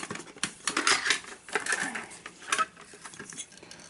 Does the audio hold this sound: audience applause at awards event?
no